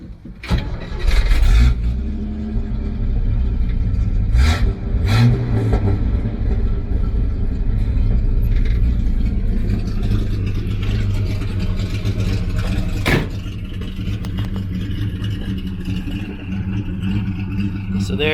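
A 1965 Chevrolet C10 pickup engine cranks and catches, then settles into a steady, throaty idle with a few revs, heard up close and loud throughout.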